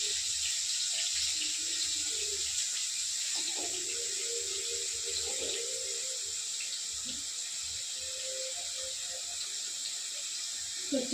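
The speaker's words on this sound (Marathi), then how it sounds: "स्वच्छ पाण्यावर धुवून घ्यायची." Tap water runs continuously into a sink during washing, a bright steady splashing hiss heard close up while someone speaks over it.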